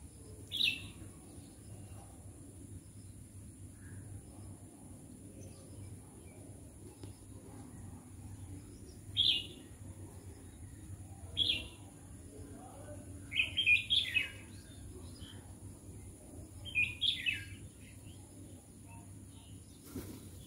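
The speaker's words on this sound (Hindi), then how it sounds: "तो अभी आप गाइस देख सकते हैं ये कौवा है जो कि दादी जी का" Outdoor bird calls, which fit a crow eating food at a home during a Hindu shraddh ceremony: short, sharp chirps come in scattered bursts over a steady low hum, some singly and some in quick clusters, moderately distant.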